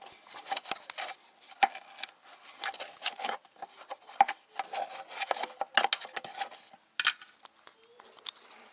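A toothbrush scrubs vinegar-loosened mineral deposits on a Sunbeam hot-mist humidifier, giving irregular bursts of brisk scratchy brushing with short clicks and gaps, fairly close and with no talking.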